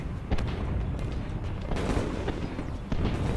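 Artillery shells explode during the Napoleonic Battle of Friedland: dull booms burst at intervals over a continuous rumbling battlefield roar, with no voices.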